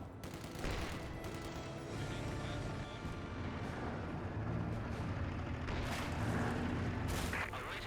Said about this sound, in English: Smoke barrage there